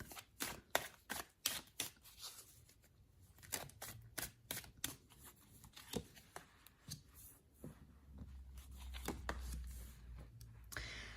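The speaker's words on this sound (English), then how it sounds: "let's give the cards a good shuffle" Tarot cards being shuffled by hand, a run of crisp riffling bursts and soft slaps, close up, with a low hum underneath.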